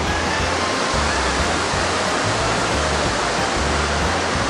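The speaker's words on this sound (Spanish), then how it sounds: "solo el sonido del agua cayendo" A waterfall at Huasca de Ocampo, Hidalgo, roars as a dense, continuous rush of falling water, loud and close with no pauses.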